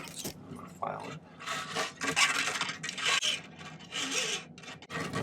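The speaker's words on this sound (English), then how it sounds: "I'm going to file it." A hand file rasps across silver wire for a bracelet, with close, repeated scraping strokes in an uneven rhythm and no talking.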